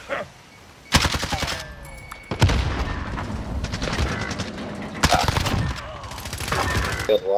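Bursts of automatic gunfire in a Call of Duty-style Search and Destroy match, several loud volleys and rattling shots close by, with a player talking between them.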